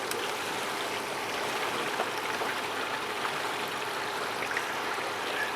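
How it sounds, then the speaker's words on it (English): Gray water gushes steadily from a camper holding tank after the drain pin is pulled, a continuous broadband splashing rush with no talk over it. "Pull the pin, watch the water. And this should be gray water."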